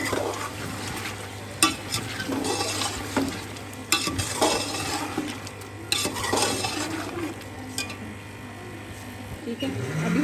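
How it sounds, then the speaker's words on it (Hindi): Ginger-garlic paste fries in a pan while being stirred, giving a steady sizzle broken by close scraping strokes and the odd clink of a spoon on metal, with a voice talking over it. "अदरक लहसुन डालने के बाद अब हम इसको भूनेंगे अच्छे से।"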